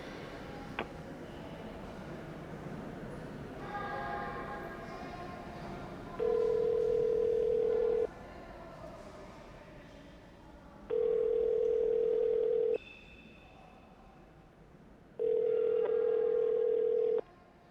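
A phone call is placed and the ringback tone sounds three times, each a long, steady, loud beep of about two seconds separated by quiet pauses, over a low room hum with no talking.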